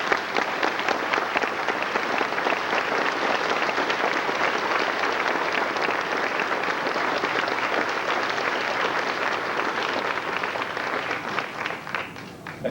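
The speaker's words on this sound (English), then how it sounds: "How about a round of applause for our seniors?" Loud, sustained applause from a large audience at a high school graduation ceremony for the graduating seniors, a dense continuous roar of clapping lasting many seconds before tapering off at the close.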